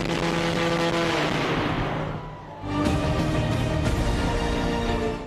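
A small but extremely powerful electric motor from a BlackFly eight-motor single-seat aircraft runs loud and close, a dense whirring roar that dips briefly around the middle, then surges back to full strength.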